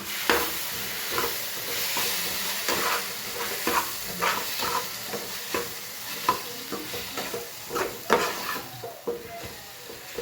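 Pizza filling with ketchup, oregano and chili flakes is stirred in a hot pan, giving steady scraping strokes over a continuous sizzle of frying, close and fairly loud throughout, with no talking.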